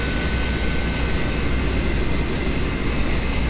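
A Yak-40 right jet engine spools up during a cold-and-dark start in a flight simulator, giving a steady, dense roar of turbine noise that holds at a constant level throughout.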